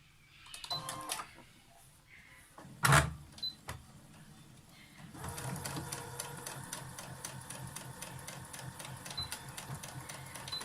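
A sewing machine stitches a lined face mask, starting with a few short bursts and a sharp clunk, then running in a continuous rapid whirr of stitches for the second half, close by and fairly quiet.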